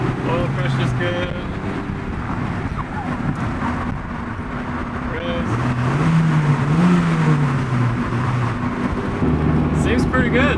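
A Honda DC2 engine holds high revs while lugging up a hill in third gear, droning steadily with a shifting tone. The engine runs under the muffled cabin noise of a moving car, and a voice talks over it.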